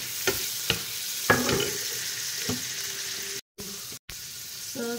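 Shrimp fry in a pan with a steady, faint sizzle, broken by several sharp utensil clicks and scrapes and a couple of brief silent gaps.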